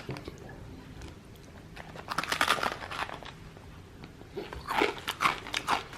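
A spicy Taiwanese snack is bitten and chewed up close, with a couple of clusters of sharp, crisp crunches separated by quieter chewing, and no talking.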